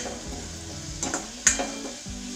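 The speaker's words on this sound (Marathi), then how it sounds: "याला चांगलं परतून घेऊ" Onion and mixed-lentil filling sautéing in a pan, with a steady sizzle and a few scraping stirs and one sharper knock of the spatula against the pan.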